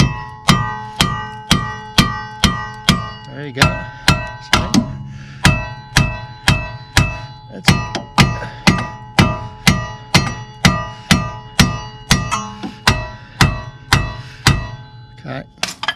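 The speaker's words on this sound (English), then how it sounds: "I'm going to start doing some hammering right here" Steady metal hammer blows on the front strut of a 2004-2007 Ford Freestar during a strut replacement, about twenty sharp ringing strikes in a regular rhythm, close and loud, with a brief spoken line partway through.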